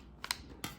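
Scissors snip open a plastic Pusheen blind bag with two quick, crisp cuts heard up close, separated by a brief pause.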